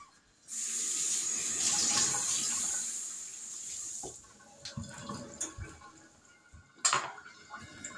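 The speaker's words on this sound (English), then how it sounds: "Let me wash my hands off." Kitchen tap running steadily as hands are washed under it, a broad continuous water hiss lasting a few seconds before it shuts off, followed by quieter clinks and handling sounds.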